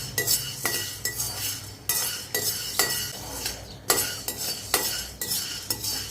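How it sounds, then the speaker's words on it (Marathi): Chana dal being dry-roasted in a pan and stirred with a utensil: repeated scraping strokes and gritty rattling of dry lentils against metal, with sharp clinks of the spoon on the pan at irregular intervals. "आपण आता चणे भाजून घेऊया।"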